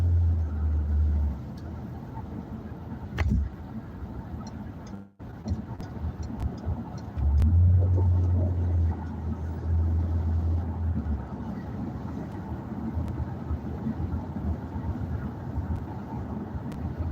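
A recently bought car drives along with a steady engine and road rumble that swells for a stretch, broken by a brief dropout and a few small clicks, with no talk over it.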